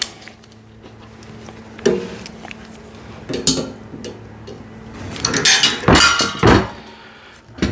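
Metal clanks and clinks of a wrench working a bolt on a hydraulic car ramp, a few sharp, close knocks rising to a busier cluster of clatter near the end, with no speech.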